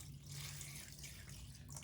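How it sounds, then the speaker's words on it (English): Two cups of water poured into the bottom of a 10 by 20 inch microgreens tray, a faint, continuous trickling splash heard alone. "I'm going to start with 2 cups of water on the bottom."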